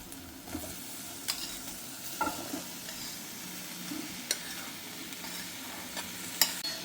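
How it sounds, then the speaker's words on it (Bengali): Half-fried vegetables stirred into spice paste in a pan: a soft steady sizzle with intermittent spoon scrapes and clicks, close by and without speech. "এবার মশলার সাথে সবজিগুলো খুব ভালোভাবে মিশিয়ে নেব।"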